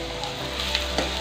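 Chopped onions and ginger garlic paste frying in hot oil in a pan, a close, steady sizzle with a few brief crackles and stirring scrapes.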